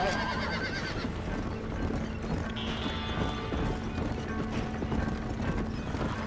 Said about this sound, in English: make your horses go a little faster